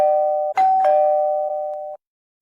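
A doorbell rings once, a clear two-tone chime with a bright strike and a sustained ringing tone that fades out after about two seconds, heard alone with no talk.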